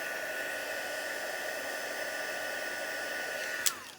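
A heat gun melts embossing powder on a handmade card, a constant close blowing hiss that runs unbroken for several seconds before a brief click near the end.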